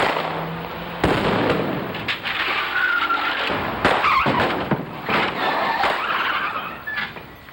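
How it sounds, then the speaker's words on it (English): Stunt car sliding and skidding during a movie scene shoot with police cars, with loud rough tire scrubbing and crunching bursts over about seven seconds, close and continuous with sharp hits. "get a nice close-up of the car sliding and the two police cars coming"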